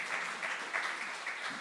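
An audience applauds at a literary evening on the poetry of Desanka Maksimović in Čačak, a steady, even wash of clapping holding for the whole moment without a break.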